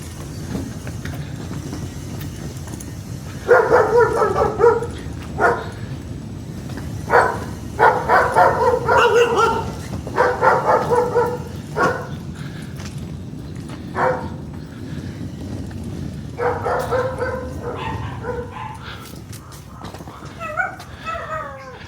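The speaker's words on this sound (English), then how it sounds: "The dog's barking." Dogs bark in repeated bursts at a house during a family visit, loud clustered barks with short yelps and whimpers against a steady rumbling background.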